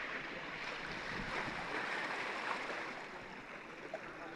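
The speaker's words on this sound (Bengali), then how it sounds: "সাগরের প্রচুর ঢেউ।" Sea waves wash steadily along the shore where people sit fishing, a continuous roar of surf with some wind noise and no voices.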